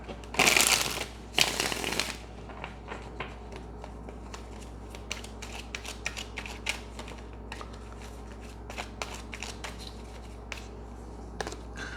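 Tarot cards shuffled by hand: two loud riffling bursts up front, then softer scattered taps and card handling, close by and without speech.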